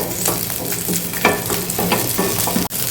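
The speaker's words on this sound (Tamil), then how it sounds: "இந்த எண்ணெயிலே நம்ம எடுத்து வச்சிருக்கிற வெங்காயத்தை வணக்கி எடுத்துக்கலாம்." Onions fry in oil in a pan for a chutney, giving a steady close sizzle with a few light stirring scrapes, no voices.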